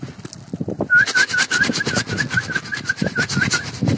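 Pigeons coo close by in a loft, with soft repeated rolling calls over a series of short whistling notes and rustling, flapping movement.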